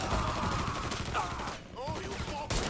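Rapid gunfire crackles through a Mafia III firefight, dense loud shots in quick succession with a short lull before another burst, and a voice shouting over the fight.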